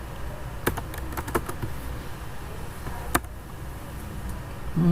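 Keys clicking on a computer keyboard, with scattered sharp taps and a few louder strokes in irregular bursts over steady low room hum, with no voices.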